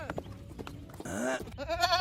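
A cartoon goat bleats in a wavering, drawn-out cry, following rustling and scuffling in a garden, with a second quivering bleat at the end.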